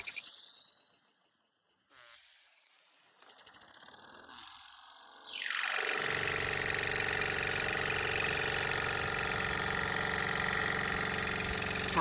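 A Mamod toy steam wagon starting up: after some clicks and a brief mechanical sound, a steady, close rush of steam settles into an even, rapid chuffing that keeps going to the end.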